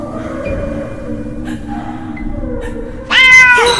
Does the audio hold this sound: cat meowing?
yes